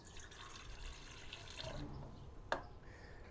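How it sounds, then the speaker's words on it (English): Water runs and splashes into a stand mixer bowl while Detroit deep dish pizza dough is being made, a steady close pouring wash that ends in a brief louder splash. "We'll start by adding the water to the mixer here."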